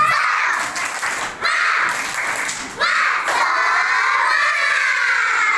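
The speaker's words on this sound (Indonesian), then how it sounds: "Oke, tepuk semangat." A first-grade class of schoolchildren at an Indonesian primary school does a group clapping cheer, a loud, continuous mass of young voices shouting with claps mixed in, brief dips at about 1.4 and 2.8 seconds, then a steady roar.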